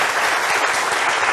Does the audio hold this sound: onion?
no